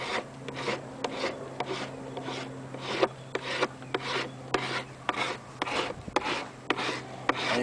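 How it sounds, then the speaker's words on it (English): Sanding Bondo body filler on a helmet, rhythmic close rasping strokes at an even pace with no speech. "now I will continue to sand and refine the shape."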